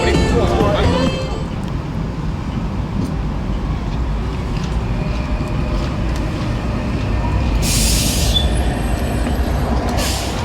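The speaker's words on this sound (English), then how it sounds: "Yes, we are entering the tram." Gothenburg tram in motion from on board, a steady rumble with rail noise filling the whole stretch, a short bright squeal near the end, and faint voices in the background.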